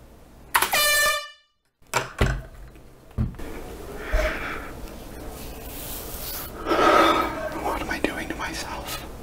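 A loud air horn blasts once, then cuts out abruptly, followed by clattering, rustling handling noise and quiet breathy murmuring.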